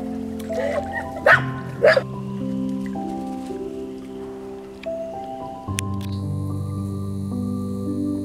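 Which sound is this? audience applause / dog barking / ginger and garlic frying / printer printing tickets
dog barking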